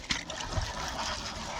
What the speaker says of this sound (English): put some water in that drip tray